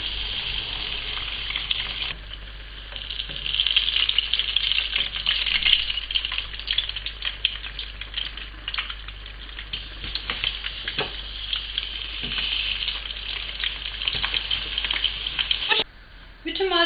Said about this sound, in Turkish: Patlıcanlarımın yarısı da kızardı.